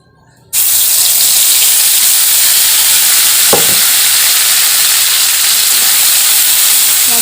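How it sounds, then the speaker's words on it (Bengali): Spice paste for chicken curry hits hot oil in a wok with a sudden loud sizzle, then a steady, close, hissing fry continues with one brief stirring scrape partway through. "এবার আমি দিয়ে দেব ভেজে রাখা মশলা পেস্ট করা"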